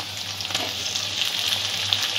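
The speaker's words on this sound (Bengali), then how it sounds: "টমেটোটাও একটু নরম করে ভেজে নেব।" Sliced tomato frying with onions in a pan for a fish curry, a steady close hiss of sizzling oil with light stirring scrapes throughout.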